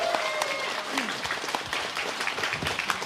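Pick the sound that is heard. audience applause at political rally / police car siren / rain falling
audience applause at political rally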